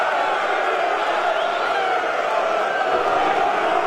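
Crowd at a Mosconi Cup pool match reacting loudly to a missed shot, a steady roar of voices, groans and shouts throughout with no pause.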